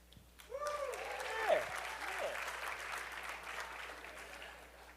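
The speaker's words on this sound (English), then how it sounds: "By applause, how many people are here to pitch?" An audience at the Rockie Awards breaks into applause that swells quickly and holds steady, with a few whoops rising briefly above the clapping early on.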